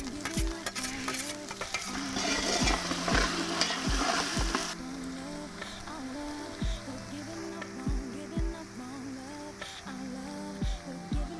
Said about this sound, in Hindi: अब डालेंगे भाई इसमें अदरक और लहसुन का पेस्ट।